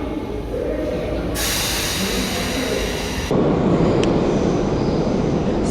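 A Tbilisi Metro train running along the Green Line, heard from inside the car as a steady rumbling roar that suddenly grows louder and harsher partway through, with a brief high squeal near the end.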